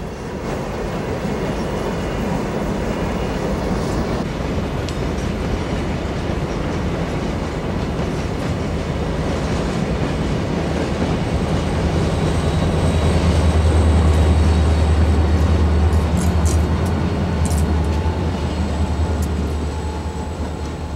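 A CSX freight train rolls past in the Bone Valley, Florida, a loud steady rumble of wheels and rail cars with clickety-clack, a deep engine drone swelling near the middle, and a few squeals toward the end.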